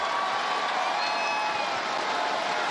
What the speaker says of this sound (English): you can hear some excitement in the crowd